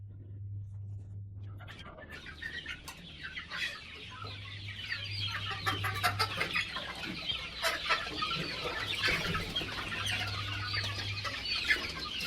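Desi chickens on a poultry farm cluck continuously, a dense crowd of overlapping clucks and chirps close by, with a low intermittent hum underneath.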